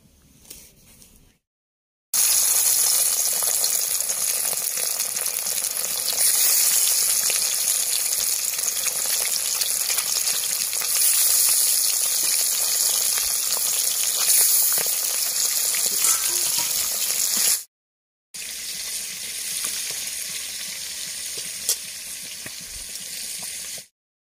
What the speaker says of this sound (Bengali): কড়াইয়ে তেল দিয়ে দিচ্ছি, এবার মাছগুলো ভেজে নেব।